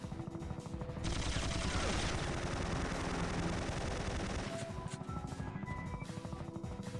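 Sustained automatic gunfire erupts loudly in the PlayStation game Syphon Filter during a bunker and tower base assault, a dense rattling burst lasting several seconds before trailing into scattered shots and game sounds.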